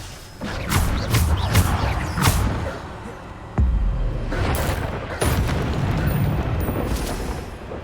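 Bombarda spell explosions in Hogwarts Legacy: several heavy booming blasts with crashing debris, one sharp impact midway, amid game combat noise.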